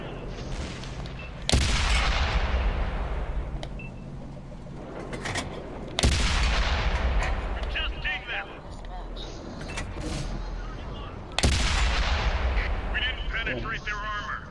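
Three heavy booms of tank gun and artillery fire in the video game World of Tanks, spaced several seconds apart, each with a long rumbling decay, amid engine noise and a voice talking.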